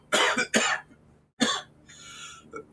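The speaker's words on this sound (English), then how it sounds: "He's developed the electronic cough." A man coughs three times in quick harsh bursts, close and loud, the last followed by a fainter rasping throat sound.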